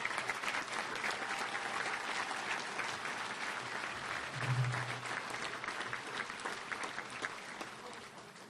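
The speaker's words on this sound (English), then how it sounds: "let's give these parents a round of applause" An audience at a touchdown club awards banquet keeps up steady applause, dense clapping that fills the room at a constant level throughout, with some scattered crowd noise mixed in.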